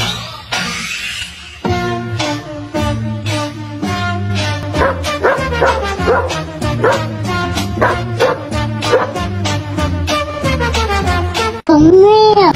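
A dog barks and yips in a quick, steady rhythm that almost follows a tune, loud and close throughout, with no talking, and a brief different tone at the very end.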